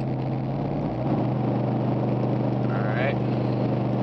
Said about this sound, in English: Now I'm going to downshift to third with my foot still applied to the throttle